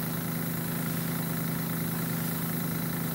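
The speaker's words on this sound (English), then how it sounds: "I got my compressor set at 30 PSI." An airbrush compressor set to 30 PSI runs steadily nearby, a constant low motor hum with a faint rattling buzz layered over a broad hiss, unchanging throughout.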